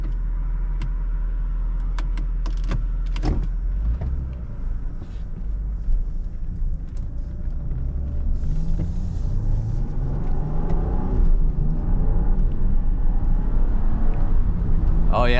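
A 2023 Land Rover Defender 90 75th Anniversary Edition drives with its Safari roof open, giving a low engine rumble, road noise and the airy wash of open-roof wind. A voice talks briefly near the start.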